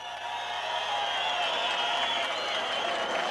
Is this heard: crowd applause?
yes